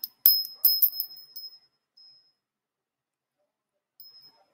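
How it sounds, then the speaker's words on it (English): A small Christmas bell brooch rings in a few quick, bright jingles close by, then falls quiet before a last faint jingle. "And this one is a Christmas bell brooch"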